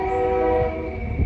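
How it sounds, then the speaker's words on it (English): A nearby train rumbles past while its horn sounds a sustained multi-tone blast, loud and steady over the low rolling rail noise. "Sorry for the train."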